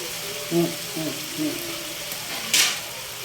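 Bamboo shoots sautéing in a pan give a steady soft sizzle, broken by a few short scraping stirs and a brief bright clatter near the end, with low voices in the background.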